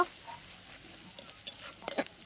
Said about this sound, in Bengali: পেঁয়াজগুলো এখন দিয়ে দেবো, দিয়ে লাল লাল করে ভেজে নেব